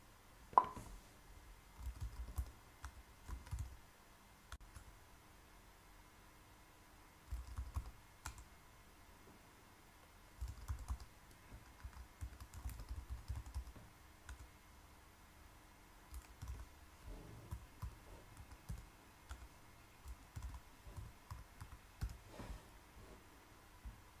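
Quiet bursts of keystrokes on a computer keyboard as account details like name, username, email and password are entered, coming in irregular clusters separated by pauses, with no talking.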